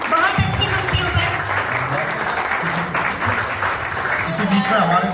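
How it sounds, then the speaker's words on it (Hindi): An audience at a Republic Day poetry gathering in India applauds steadily for several seconds, a dense crackle of clapping with a voice speaking beneath it. "तालियां आपकी बहुत कमजोर है, बहुत अच्छी पंक्तियों पर।"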